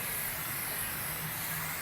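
A steady, continuous hiss of an aerosol spray can finishing cabinet insides, even and unbroken for the whole short moment.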